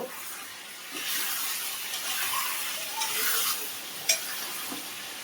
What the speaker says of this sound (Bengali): আমি একটু গরম মশলার গুঁড়ো দিয়ে দিলাম, দিয়ে আমি নেড়ে দেব।